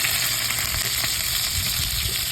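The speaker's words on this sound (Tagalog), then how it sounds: "Prito muna tayo ng isda" Steady, close sizzling and crackling of fish frying in hot oil, continuous with no talking.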